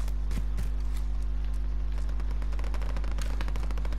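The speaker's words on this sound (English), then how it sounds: "Jesus, somebody's shooting." Gunfire in the shooter game Warzone, a rapid series of sharp cracks and bursts over a steady low hum, moderately close.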